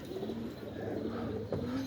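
Pet pigeons coo softly in a loft, low repeated calls that sit faint and somewhat distant over a quiet background hum, with no one speaking.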